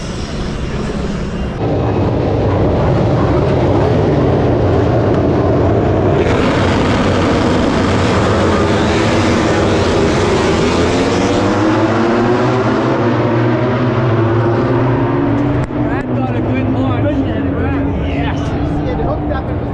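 MotoGP motorcycles roar away at the start of the race at Circuit of the Americas in Austin, a loud dense wall of engine noise with rising and sweeping pitches as the pack accelerates, with commentary talking over it.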